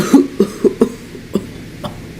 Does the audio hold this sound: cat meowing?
no